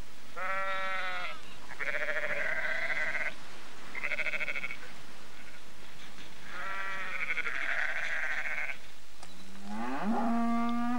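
Cattle low in several long, drawn-out calls, one after another, with a final rising call, heard clearly over a steady background hum.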